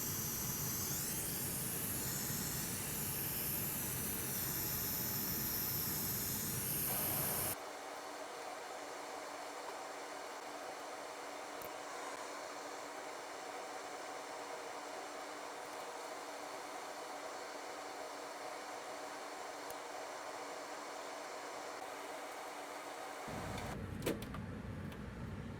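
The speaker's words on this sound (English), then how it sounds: "I'm applying hot air and UV." Hot air rework station blowing steadily across a PS5 circuit board during a repair, a loud continuous hiss that drops to a quieter airy rush midway and then swells again near the end, with no talking.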